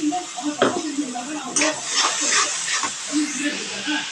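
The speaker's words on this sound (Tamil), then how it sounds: "நல்லா அந்த எண்ணெயிலேயே வதக்குங்க." Onion and tomato, with a spoon of ginger-garlic paste, sizzle steadily in hot oil in a pan for a Sankara fish curry, a continuous hiss under a talking voice with a few stirring clinks.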